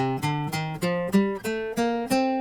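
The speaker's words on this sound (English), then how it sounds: "The C Dorian mode," A guitar plays a rising C Dorian mode run of eight single plucked notes at a steady pace, each note clear and ringing out on its own.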